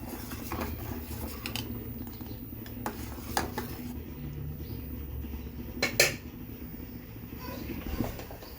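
A spoon stirs sago and rice sweet in a metal pot, giving soft scraping and clinking against the pan, with a couple of sharper knocks near the middle.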